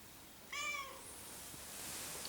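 Domestic cat giving a single clear, drawn-out meow lasting about half a second, fairly close and moderately loud, followed by quiet background rustle.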